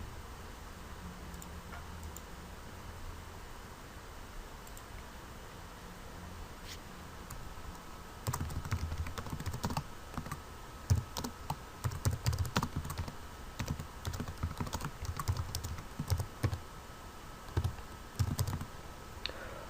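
A computer keyboard is typed on softly as a file name is entered, with scattered close key taps over a faint hiss, becoming busier and more clustered in the second half.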